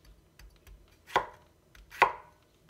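Two crisp knife chops through cucumber on a cutting board, close and distinct, with light quieter taps in between and no voices.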